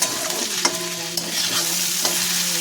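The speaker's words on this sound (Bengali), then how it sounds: "তিল দিয়ে কালো জিরা বাদাম সব কিছু দিয়ে আলু ভাজা" Potatoes frying with sesame seeds, nigella seeds and peanuts crackle in a steady sizzle, with a low hum underneath and several crisp stirring clacks of a spatula in the pan.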